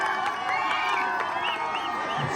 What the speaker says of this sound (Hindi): रेड पर तालियों से स्वागत करेंगे।